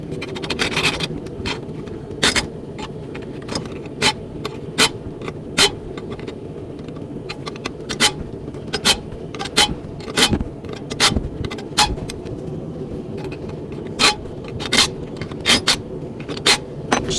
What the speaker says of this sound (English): Just going to hot rasp these corners down